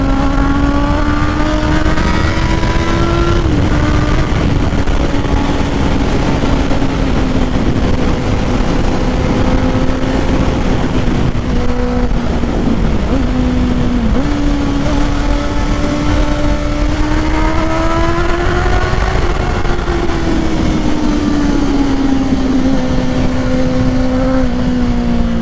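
Honda CBR650R motorcycle fitted with a Black Widow full exhaust, riding steadily with a loud, close inline-four drone that rises and falls through gear changes and revs, with no talking.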